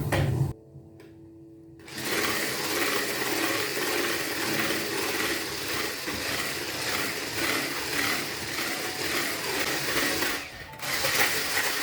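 An electric hand mixer beats eggs for a Raffaello cake, as the yolks are slowly added to the whipped whites. A loud, steady motor whine runs close for about eight seconds, then cuts out briefly and starts again.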